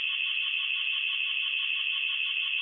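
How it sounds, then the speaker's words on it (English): A security alarm rings with a steady, piercing electronic tone that holds unbroken and loud throughout, with nothing else audible. "The security alarm. It hurts my ear."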